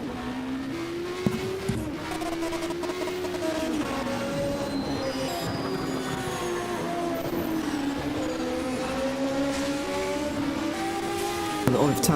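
A Fiat 131 rally car at full effort on a hill climb course at Ilirska Bistrica, a European Hill Climb Championship round: a close, continuous engine drone that rises and falls in pitch as it revs through the gears.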